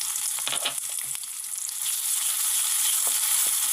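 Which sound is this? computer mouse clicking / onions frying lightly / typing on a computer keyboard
onions frying lightly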